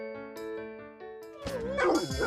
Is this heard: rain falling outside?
no